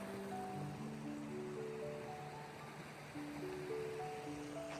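The clear Kalindi river flows through dense forest near Thirunelli, a steady, even rush of moving water that continues without pause.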